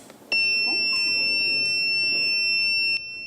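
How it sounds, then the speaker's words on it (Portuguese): Electronic school bell designed by students for a state school in São Paulo's Zona Leste, a steady high two-tone electronic beep held for about three seconds, loud and alone over faint room noise. "Esse é o som da futura campainha desta escola estadual na Zona Leste."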